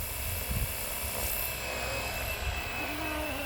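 A giant RC helicopter flies while carrying an RC car, its rotor and turbine whine holding steady and fairly near, with a high pitched drone and soft low thumps throughout, no voices.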